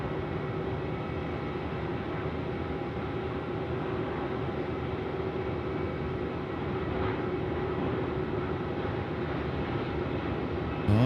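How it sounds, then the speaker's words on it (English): A Jetstar Airbus A320 on a Melbourne runway at night spools up its jet engines, a steady, broad roar heard from a distance that holds even and slightly swells toward the end. "that was a spool up of the A320, the Jetstar 320 that was just in front of us"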